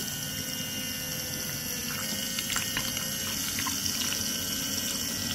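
A small electric motor runs with steady flowing water in a sewage treatment plant working model, a continuous close hum and trickle with faint splashy ticks throughout.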